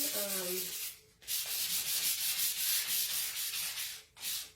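Steady wet sanding of a painted fabric chair with wet 1000-grit sandpaper, a soft rhythmic rubbing scrape that continues for several seconds with two brief pauses, close and fairly loud.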